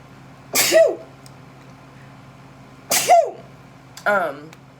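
Three sharp sneezes burst out one after another, close and loud, against a quiet background.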